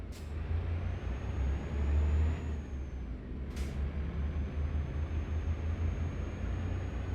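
A heavy truck in American Truck Simulator pulls away with a steady low diesel drone, broken by two short bursts of air-brake hiss.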